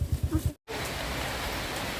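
Rain falling outdoors, a steady, even hiss of drops that fills the clip after a brief low murmur at the start, continuous and moderately loud with no distinct individual drops.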